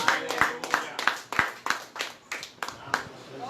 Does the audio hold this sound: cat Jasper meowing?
no